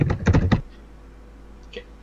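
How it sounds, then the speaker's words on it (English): Loud computer keyboard typing, a rapid burst of heavy clacking keystrokes close to the mic, then near quiet with one faint tap. "Thunderous typing."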